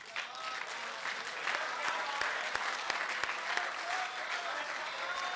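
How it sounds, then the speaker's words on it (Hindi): An audience at an annual Urdu mushaira at a university in Lahore gives steady applause to welcome a poet, with sharp individual claps standing out from a rolling crowd clatter, moderately distant and continuous for several seconds. "आप सबकी भरपूर तालियों में दावत देता हूं जनाब गायर आलम को।"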